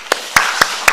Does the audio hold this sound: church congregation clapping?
yes